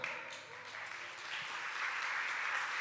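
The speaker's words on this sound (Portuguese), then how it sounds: "Salva de palmas para o Luiz Fernando Lucas." An audience applauds a speaker being welcomed at a talk, with dense, steady clapping that fills the whole moment and swells slightly toward the end.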